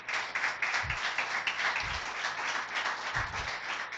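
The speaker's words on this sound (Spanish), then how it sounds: "Dale un fuerte aplauso al Rey de Gloria." Church congregation clapping at a Spanish-language worship service, a steady continuous round of applause with a few low thumps, fairly close and loud, with no speech over it.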